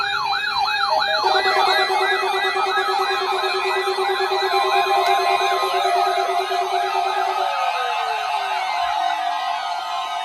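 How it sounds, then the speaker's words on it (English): A weather radio blares its emergency warning alarm tone during a weekly test, a loud steady electronic tone layered with a rapidly warbling siren-like sweep that runs continuously, with no speech over it. "Tests of the warning alarm tone are normally conducted at this time, every Wednesday between 11 a.m. and noon."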